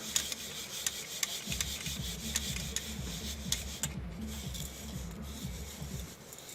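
Ground sumac spice being sieved gives a soft, steady rubbing and shuffling rasp, close and quiet, with light rhythmic scraping through most of the stretch.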